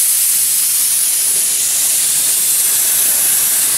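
Spray gun laying a primer coat onto car wheel rims, a steady loud hiss of atomised paint that holds unbroken throughout with no talk.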